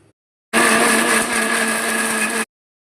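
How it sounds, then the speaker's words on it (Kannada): Kitchen mixer grinder blending tamarind with cooked greens for bassaru, a steady loud whirring motor run of about two seconds that starts and stops abruptly, with no voices. "ಇದಕ್ಕೆ ಸ್ವಲ್ಪ ಕುಕ್ ಮಾಡಿರೋಂಥ ಸೊಪ್ಪು ಆ್ಯಡ್ ಮಾಡಿಕೊಂಡು ಗ್ರೈಂಡ್ ಮಾಡ್ಕೊಳ್ಬೇಕಾಗುತ್ತೆ"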